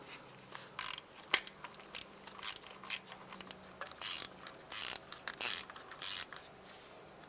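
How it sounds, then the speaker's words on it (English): A ratchet tightens 8mm bolts on the intake of a 2004–2008 Acura TL, making close bursts of quick clicking strokes separated by short pauses. "We'll actually go ahead and tighten down our 8mm bolts."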